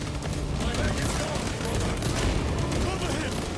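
Dense, continuous gunfire from the video game Warhammer 40000: Space Marine 2, a loud unbroken roar of overlapping shots and blasts with voices shouting over it.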